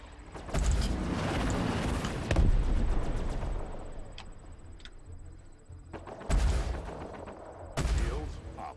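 Spaceship weapons fire strikes a ship's shields in Star Citizen, heard as heavy rumbling bursts and booming impacts that swell and fade, punctuated by sharp ticking blips and electronic tones.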